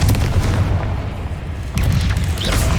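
A Confringo blasting spell bursts in the Hogwarts Legacy video game, a loud, booming explosion with a heavy low rumble, then a second blast follows about midway through.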